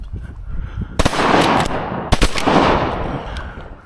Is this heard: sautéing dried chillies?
no